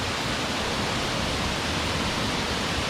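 Steady, dense roar of Millaa Millaa Falls in Queensland, Australia, in the dry season, broadband and unbroken, close and loud like a waterfall pouring continuously.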